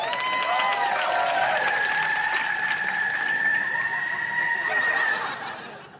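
Cheering and clapping from people in a car on an Italian road trip once the stalled car is restarted, a sustained, lively wash of noise mixed with laughter and whooping voices that fades away at the end.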